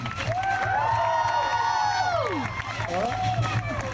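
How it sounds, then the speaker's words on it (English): A crowd screams and cheers at full volume with high voices shrieking and sliding in pitch, some sounding like children, over a low hum of noise throughout. "Everyone scream"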